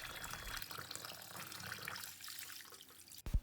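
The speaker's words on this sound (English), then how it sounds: "Wash until the water runs clear." Rice being rinsed under running tap water in a kitchen sink, a steady broadband rush and trickle throughout, ending in a brief splash and clunk.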